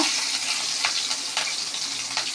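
Cumin seeds and green chili frying in a mix of oil and ghee, a bright steady sizzle with a few sharper crackles and pops, close and unbroken by talk.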